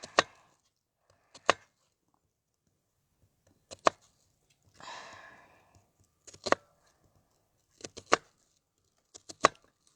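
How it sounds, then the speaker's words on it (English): A knife slicing crushed Sicilian olives on a board, about eight crisp separate cuts spaced irregularly, close and clear in a quiet kitchen, with one soft breath between them. "not chopped, but cut it into small slices"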